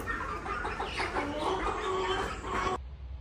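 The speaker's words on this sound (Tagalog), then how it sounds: "binaba natin tong mga manok" Chickens on a farm cluck and murmur close by in an irregular chorus as they are unloaded, the noise cutting off abruptly near the end.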